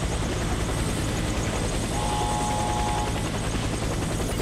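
A military helicopter in a Warface tutorial mission gives off a loud, steady, close rotor and engine roar that drones without a break.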